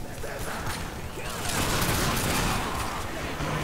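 Dense, continuous gunfire in The Darkness 2 video game, a rattling barrage that swells louder midway and stays heavy to the end.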